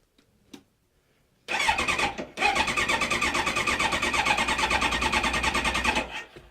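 A 2001 Kawasaki Ninja ZX-9R motorcycle engine cranks and catches after a short quiet stretch, stumbles once, then settles into a loud, steady running rumble up close with the choke on before dying down at the end.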